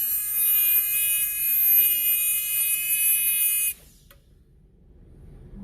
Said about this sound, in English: I want to get one of my old Freza bit and I want to do little sharpening like that